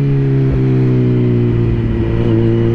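A Kawasaki Z900 motorcycle pulls hard in second gear, its loud, close engine drone holding a steady, slowly rising tone throughout, with no voices over it.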